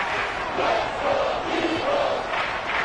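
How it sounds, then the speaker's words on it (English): Video game football stadium crowd roaring and cheering steadily at a wildcard playoff game between the Cowboys and another team, a dense, loud wall of crowd noise with slight swells and no clear talk. "Crowd here at the link getting pumped"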